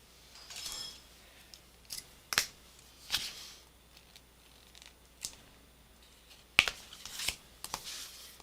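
A package of small card stickers being opened by hand, with several crisp crinkles and sharp snaps of plastic wrapping in irregular bursts, close up against a quiet background.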